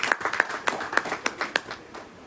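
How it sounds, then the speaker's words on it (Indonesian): A small church audience gives a brief, scattered round of handclaps during a sermon, a few distinct claps in an uneven rhythm, fairly quiet and close. "Wow, berikan tepuk tangan."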